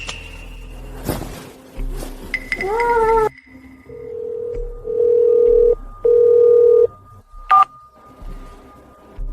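A phone call that fails to connect: a short burst of keypad dialing tones and a dial tone, then a run of steady electronic beeps and tones broken by pauses, loud and close, with speech mixed in.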